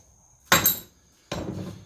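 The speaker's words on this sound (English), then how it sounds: "then I'll knock it out with a hammer" Two loud, close sledgehammer blows strike an upper A-arm bushing to knock it out, sharp metallic impacts spaced under a second apart with a short ringing decay after each.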